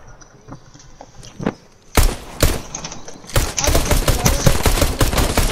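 Pistol gunfire in Fortnite: a few scattered shots at first, then a dense flurry of rapid cracks over the second half, loud and close, with faint mechanical clicks and footsteps mixed in.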